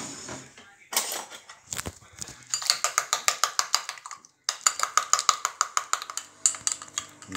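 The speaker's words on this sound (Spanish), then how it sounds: "Un poquito más de yema. Y batimos." Egg yolk beaten by hand with a utensil against a bowl in a home kitchen, a fast run of sharp, evenly spaced clinking taps close by, pausing briefly midway before resuming in steady rhythm.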